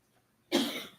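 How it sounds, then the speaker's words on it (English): A single sharp cough rings out in a courtroom, close and abrupt against a quiet background, then fades. "Listen to all that coughing going on in the courtroom."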